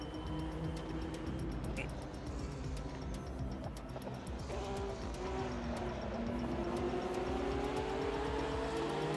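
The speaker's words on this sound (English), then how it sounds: "somebody's coming quick down the inside in a Porsche" A Porsche race car in a sim racing video game passes with a steady, fairly quiet engine drone whose pitch climbs gradually as it approaches.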